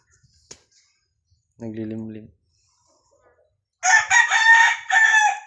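Boston henny chickens being paired for breeding: a short, close cluck-like call is followed by a louder, raspy rooster crow lasting over a second, with a faint click near the start and quiet gaps between.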